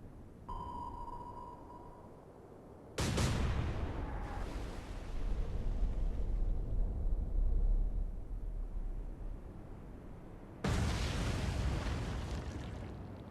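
Torpedo hits from a U-boat burst against a ship in Atlantic Fleet, two sudden loud booming explosions a few seconds apart, each followed by a long rumbling roar, after a brief sonar-like tone.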